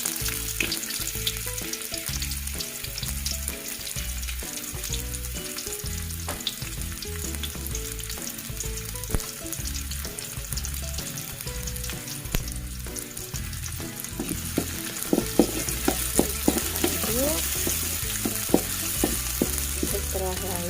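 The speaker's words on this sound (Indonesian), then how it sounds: "Setelah panas kita masukkan untuk bawang merahnya dulu." Shallots sizzle in about three or four spoonfuls of hot cooking oil in a pan, a dense steady crackle that brightens into sharper spitting pops toward the end, close and with no talk.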